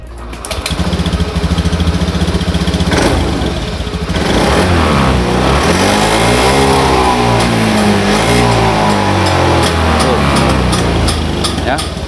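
A Honda Vario FI scooter with heavy, sluggish pull and a dirty throttle body revs loudly up close, the engine note rising and falling through repeated throttle blips over about twelve seconds, with someone talking over it.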